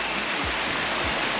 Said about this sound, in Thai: นี่นะครับทุกคนน้ำตกเมื่อกี้ก็จะไหลมาตรงนี้นะครับแล้วก็ไหลไปนู่นเลยนะครับ